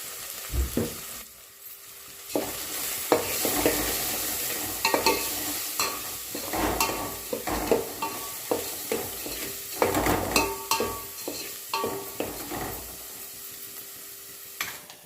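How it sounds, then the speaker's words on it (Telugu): Turmeric being stirred into a sizzling chicken curry base in a pan, with repeated scraping strokes of a spoon over steady frying crackle, close and moderately loud, no talking. "హాఫ్ టీ స్పూన్ పసుపు వేసుకొని అంతా కలిసేటట్టు కలుపుకోవాలి"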